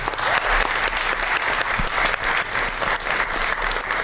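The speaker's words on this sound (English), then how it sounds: "let's go ahead and give them a round of applause" Round of applause at a TUSD governing board meeting, a sustained crowd of clapping hands that stays loud and constant throughout, with a few sharper individual claps standing out.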